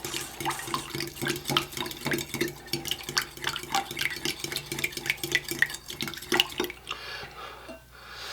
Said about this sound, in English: I'm going to add a teaspoon of baking soda and just mix it in here real good